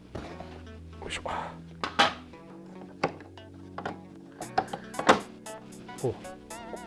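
An exhaust duct with pre-shaped ends is twisted and clicked onto an EcoFlow WAVE2 portable air conditioner, giving a series of close plastic knocks, thunks and a sharp snap amid handling noise, with a soft voice in between.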